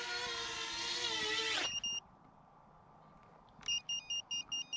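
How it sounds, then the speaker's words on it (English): A high motor whine from an iFlight Chimera 4 drone spins down and stops, then after a pause its onboard buzzer gives a quick run of five loud, evenly spaced beeps. "That's how loud the buzzer is."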